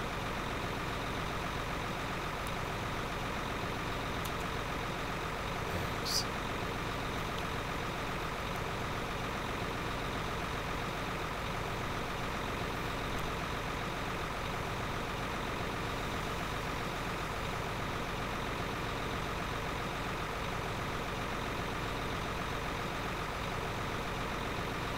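A tractor engine runs steadily throughout, a continuous low mechanical drone with no talk, heard from nearby at moderate level.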